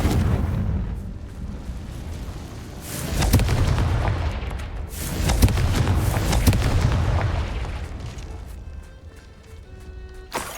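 Confringo explosion spells from a Harry Potter video game go off as several deep booming blasts with rumbling tails, loud and spread across the stretch.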